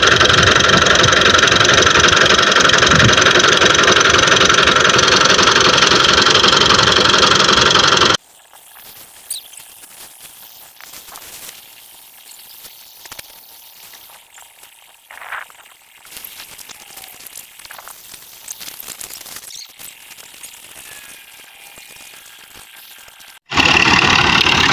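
Farm tractor engine running near fodder fields, a loud, steady close-up rumble for several seconds, then much quieter low background sound with scattered knocks, before the loud engine returns at the end.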